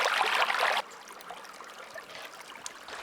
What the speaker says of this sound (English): Medhin uses her jug to scoop the freshest spring water from a small natural pool that she then pours into the 25-liter containers